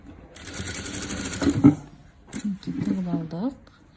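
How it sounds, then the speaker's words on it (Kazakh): A sewing machine stitches the edge of a 3D pillow made of velour fabric, with a close, steady mechanical whirr for about two seconds, then a voice speaks over a quieter pause. "және бір шетін тағы да тігіп аламыз."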